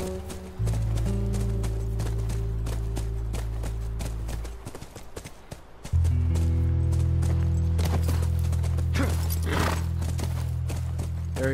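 Horse hooves clip-clopping by a ranch in The Last of Us game, a steady close rhythm of hoofbeats over a droning musical score, briefly thinning midway before resuming.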